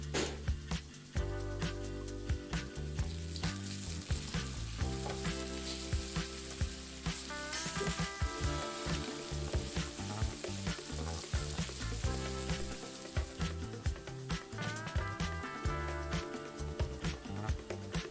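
Ground chili sizzles and fries in hot cooking oil, a loud continuous crackling hiss close up, broken by regular scraping stirs of a utensil against the pan.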